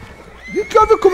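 A single loud whinny from a gravely injured thoroughbred horse in Red Dead Redemption 2 rises and wavers, close and strained, lasting about a second.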